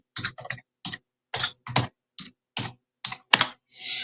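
Clicking and typing on a computer keyboard, a dozen or so separate sharp clacks spaced irregularly, close and clear in an otherwise quiet room with no talking.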